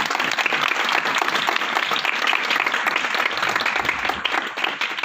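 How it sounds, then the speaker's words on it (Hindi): A church congregation at a Christian worship gathering claps loudly in praise, a dense, steady wash of applause sustained from start to finish with no talking over it. "यीशु मसीह की जलाल के लिए जोरदार तालियां बजाएं।"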